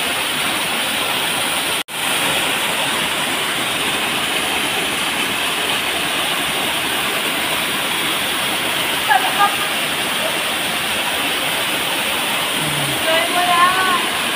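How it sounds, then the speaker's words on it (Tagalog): A waterfall at Lower Langon Cave in Samar pours with a steady, loud broadband roar that fills the whole stretch, briefly cutting out once near the start, while faint chirps and voices surface near the end. "Yeah, nice waterfall."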